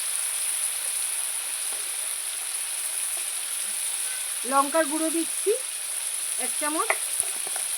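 Potatoes frying in a pan with turmeric and chili powder, cooked outdoors in winter sunshine, give off a steady, even sizzle throughout, with someone speaking briefly partway through.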